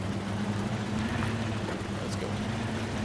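A truck engine idles steadily in the off-road driving game MudRunner, a continuous low rumble running evenly throughout with no talking over it.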